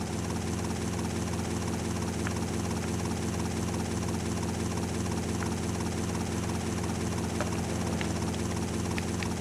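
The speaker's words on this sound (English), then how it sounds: "Hey guys, we need the helicopter again." A helicopter in Grand Theft Auto: Vice City Stories drones steadily with a dense, constant rotor and engine roar, loud and unbroken, with faint clicks near the end.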